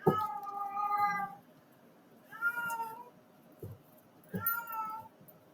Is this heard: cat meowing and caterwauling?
yes